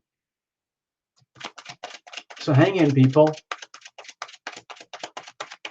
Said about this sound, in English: I'm going to shuffle the cards first.